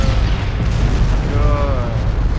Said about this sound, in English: They've been hit by another torpedo.